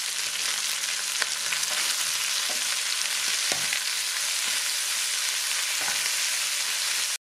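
Bell pepper sautés with beef in a hot pan for a Romanian green-bean beef soup, giving a steady, close sizzle with a few soft stirring clicks and scrapes throughout, and no voices.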